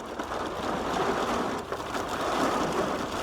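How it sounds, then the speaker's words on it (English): Rain falls steadily and loudly as a dense, continuous hiss of drops with no break and no one speaking. "Now, I'm enjoying the rain"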